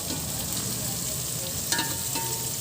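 Chicken sautés in oil in a pan for a Filipino ginisang manok, giving a steady sizzle broken by a few brief metallic clinks from stirring.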